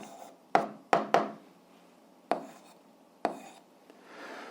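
Several sharp taps and short strokes from a pen or chalk writing an algebra equation, close and isolated, with a quick cluster near the start and then spaced marks.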